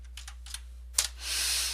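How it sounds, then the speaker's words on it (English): Keys tapped on a computer keyboard while a password is entered at a login screen: a few soft, scattered clicks, then a brief sharper burst and a longer hissy stretch, close and quiet. "now we put in the password."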